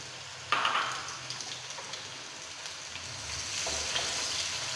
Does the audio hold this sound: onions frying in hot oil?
yes